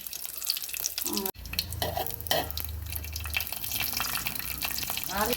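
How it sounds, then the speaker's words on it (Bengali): Rice grains sizzle and stir in a hot pan as they roast and puff into muri, a continuous close crackling frying texture with scraping and faint clatter, loud and steady throughout. "এই দেখুন মুড়ি হয়ে যাচ্ছে"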